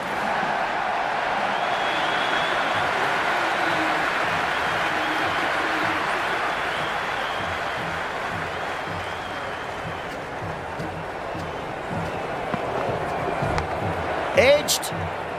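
Dense, continuous roar of a large cricket stadium crowd at a Sri Lanka vs England T20 match, steady cheering and applause throughout with a few louder claps near the end, plus talk under it.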